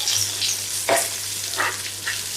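Onions and cashews frying in oil in a pan for kaju curry, a bright steady sizzle with a few stirring scrapes and bursts, close and alone.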